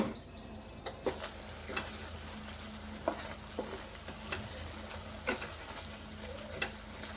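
Palak paneer being stirred in a pan, with a steady low sizzle and repeated scraping strokes at a fairly even pace, about one every second, close up with no talking.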